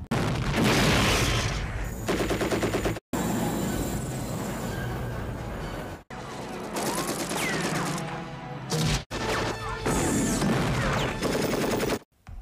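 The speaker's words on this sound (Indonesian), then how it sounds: "Mereka juga diberi tembakan peringatan yang membuat Bang Rambo ngamuk" Loud bursts of warning gunshots crackle in rapid volleys in the film First Blood III, broken by abrupt silent cuts, with booming impacts and dense, chaotic noise throughout.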